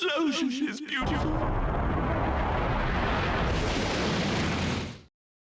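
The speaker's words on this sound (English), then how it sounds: "My explosion is beautiful." A video game explosion in Mega Man Maverick Hunter X on the PSP: a loud, sustained roaring burst of rumbling noise lasting several seconds, then a sudden cutoff into silence, with a brief voice just before it.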